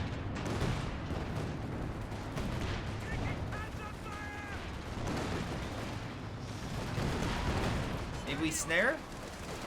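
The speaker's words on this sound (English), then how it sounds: "Oh my god, what a strafe. Again, that's a strafing fire." Aircraft strafing gunfire in Company of Heroes 2 during a 4v4 match, a dense rumbling stream of shots and impacts under steady game noise, with a voice speaking briefly over it.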